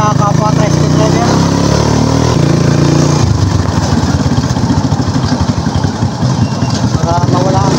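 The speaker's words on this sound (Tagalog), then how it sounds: "Para mawala ang kalampag yung ating makina." A Honda CB125 tricycle engine runs up close with a loud, steady throbbing idle that turns into a quicker rhythmic pulsing partway through, with a rattling edge and muffled voices in the background.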